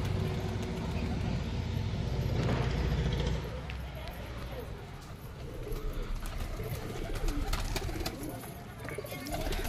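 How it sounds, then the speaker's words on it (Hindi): A pigeon coos outside its loft among a steady wash of background noise and scattered rustling, the soft calls fairly close. "हमारा शिखरा कबूतर अभी बाहर बैठा हुआ है"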